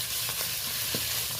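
Ginger paste fries in hot oil in a pan, giving a steady close sizzle with a few faint scraping stirs of the spoon.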